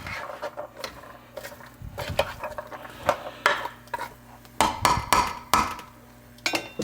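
Curry chicken couscous being stirred with a utensil in a non-stick pan with olive oil, a run of irregular scraping and clacking strokes against the pan, close and fairly loud.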